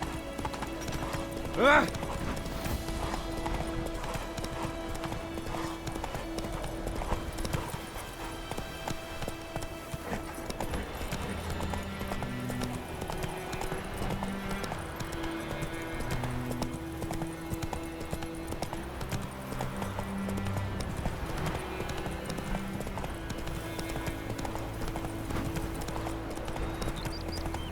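Roach the horse gallops in The Witcher 3, rapid clip-clop hoofbeats running steadily throughout over background music, with a brief shout and occasional speech on top.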